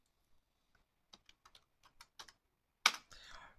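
A ping command is typed on a computer keyboard as a quiet, sparse run of separate key clicks, ending in a louder clack like the Enter key, then a short rustle.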